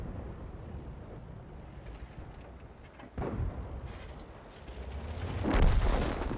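Tank cannon fire aimed at a Panzer IV in World of Tanks, a sharp booming shot midway over a rumbling engine and wind bed, followed by a louder swelling blast toward the end; no talk.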